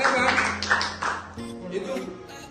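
A group in a classroom claps, a quick burst of hand claps that starts loud and then fades as a teacher's voice continues over it.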